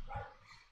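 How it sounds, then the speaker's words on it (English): A dog gives a single short bark, fairly faint and slightly distant, then quickly fades. "I apologize for my dog barking,"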